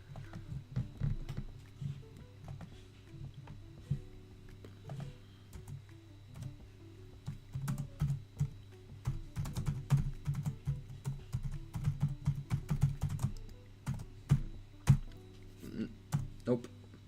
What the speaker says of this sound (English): I was typing down the song name